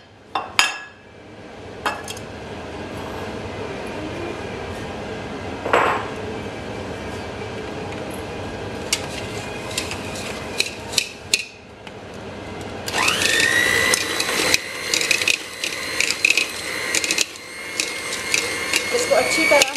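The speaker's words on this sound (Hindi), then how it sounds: "इनको डाल के तो सारा मिक्स कर लेंगे" Light brown and white sugar being mixed into carrot cake batter in a bowl, heard as scattered scrapes and clinks of a utensil against the bowl, growing busier and louder toward the end, with someone speaking.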